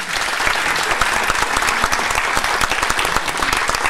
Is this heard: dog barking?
no